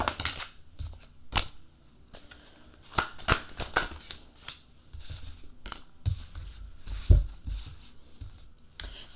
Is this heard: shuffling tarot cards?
yes